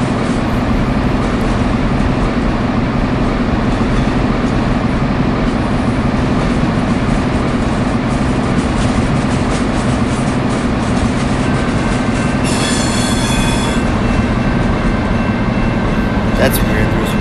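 A Virgin Pendolino 390 train runs along tracks in a Train Sim video game, a loud steady rumble and rail roar that continues unbroken, with a brief high whine near the end.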